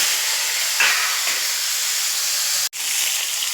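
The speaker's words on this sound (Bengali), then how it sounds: "ঝিঙাটা একটু ভেজে নেব" Ridge gourd frying in oil in a pan with spices, a loud continuous hiss of sizzling oil close by with one sharp brief click, no voices.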